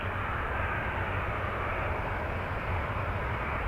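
A Boeing 737-800 jet in Mickey Mouse livery, arriving from Vancouver at Toronto Pearson, gives a steady, loud, broadband engine roar with a low rumble that holds unchanged for the whole stretch, with no voices.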